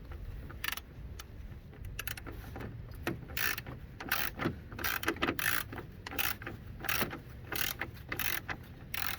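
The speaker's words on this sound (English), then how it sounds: "Definitely love this ratchet. It bends in all kind of ways." Close, rapid ratchet clicking from a bendable-head ratchet undoing screws on the front grille of a Mercedes-Benz C-Class W204, coming in quick irregular bursts with short pauses in between.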